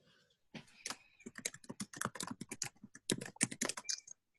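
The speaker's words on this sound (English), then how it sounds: "I hear someone typing" Close-up typing on a computer keyboard, quick uneven bursts of clicky keystrokes after a moment of quiet, with no talking.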